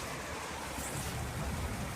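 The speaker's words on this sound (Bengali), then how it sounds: "বাইরে হেভি জোর বৃষ্টি পড়ছে" Heavy rain from Cyclone Montha pours down in a steady, dense hiss with no break, loud and close all around.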